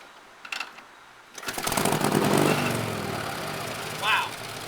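A 1948 Harley-Davidson Panhead is kicked over, with a couple of mechanical clunks from the kick, then fires on the first try and settles into a loud, steady, close-up engine rumble.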